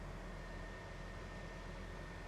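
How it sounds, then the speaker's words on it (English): A 1967 Chevrolet Chevelle SS air conditioner running on high inside the cabin, giving a steady, even broadband whoosh of blowing air with a low rumble underneath, constant throughout with no talking. "First I'll turn it on high so you guys can hear it."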